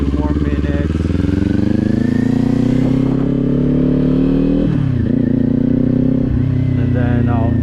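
Kawasaki Z400 motorcycle engine humming steadily while riding, loud and close, with the pitch climbing through a gear and dipping at shifts near the end.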